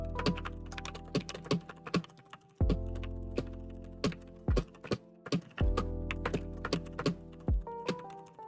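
Typing on a computer keyboard, a steady run of close, crisp key clicks with louder thunking strokes every second or so over a sustained low hum.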